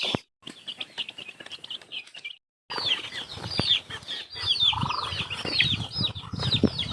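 Chickens and many small chicks crowd in at feeding time in a rural yard, with bursts of wing flapping, clucking and high peeping chirps that grow busier and louder after a short pause.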